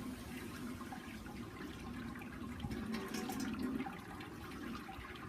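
Sparge water pours over the mash during home brewing of a Castle Eden pale ale, a steady, soft splashing trickle that runs without a break at low volume.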